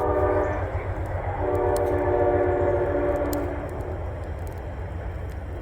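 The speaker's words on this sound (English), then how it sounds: "The train is passing." A train rumbles past nearby, its horn sounding loudly for a few seconds over the steady roar of the wheels.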